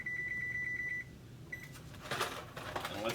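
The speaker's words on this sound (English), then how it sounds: "Set my timer for 10 minutes." A kitchen timer being set to 10 minutes gives a run of rapid electronic beeps, then a single short beep, followed by rustling handling sounds.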